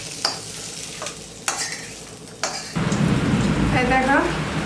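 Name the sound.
spices being stirred and fried in a pan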